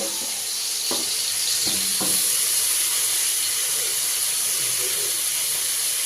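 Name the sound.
food frying in pan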